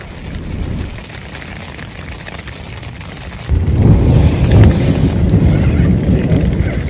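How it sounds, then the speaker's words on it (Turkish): Steady rain hisses continuously on a mountain campsite in the Cilo Mountains, Hakkâri, growing heavier and louder partway through, a dense wash of falling water with no voices. "ne güzel yağmur yağıyor."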